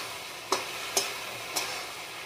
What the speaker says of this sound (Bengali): আলু আর বেগুন দিয়ে একটু নেড়ে দিলাম